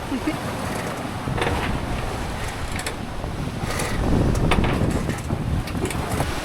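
A sailboat making about 7.5 knots under sail with the swell on the beam, giving a steady rush of water and wind against the hull, with gusty wind buffeting the microphone throughout.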